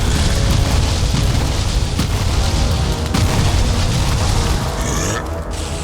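Yagluth, the undead boss in the Valheim video game, spews molten plasma in a loud, continuous, rumbling roar, dense with booming bursts and fiery crackle, with no voices over it.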